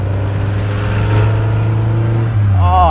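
A Peugeot 205 hatchback's small front-wheel-drive petrol engine runs close and loud, holding a steady drone before a brief rise in revs near the end.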